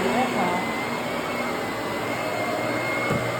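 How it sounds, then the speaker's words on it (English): A vacuum cleaner works over a car interior, giving a steady, loud, unbroken whining drone with a constant hum beneath it that holds the same level from start to finish. "Y'all seen I thoroughly vacuumed that car."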